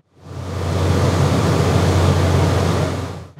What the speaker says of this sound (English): Here's a generator with a sound-attenuated enclosure.